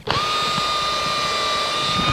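A power drill bores into an acoustic guitar neck joint fixture in a workshop, a steady high whine running continuously and close for the whole stretch, with no talk over it.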